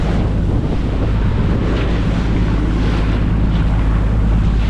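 Sea water spraying over a boat in strong wind on a crossing near Tagbilaran City toward Cebu, a loud continuous rush of wind buffeting and surf hissing with no break.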